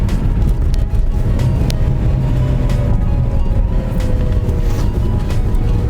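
A BMW E46 320 Ci coupe drives and accelerates, its engine a steady, loud drone with a rising tone under continuous road and wind rumble, with no voices.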